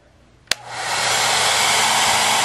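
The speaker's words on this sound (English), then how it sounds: "Now I'll move the hair dryer a bit farther away so it doesn't make as much noise" A switch clicks, then a hair dryer set to low speed whirs up and settles into a steady, close, continuous airy roar.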